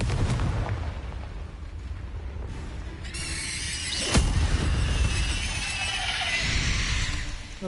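A Confringo fire spell going off in Hogwarts Legacy, a sharp blast near the middle followed by a roaring, crackling burst amid the rumbling game ambience.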